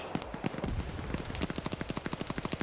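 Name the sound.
M249 machine gun fire in a video game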